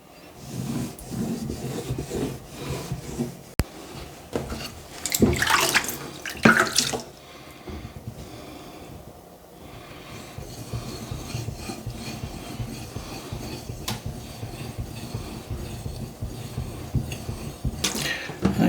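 A deba knife is sharpened on an 8000 grit Imanishi whetstone, giving wet, gritty rubbing and scraping strokes that keep on steadily, with louder bursts of grinding now and then.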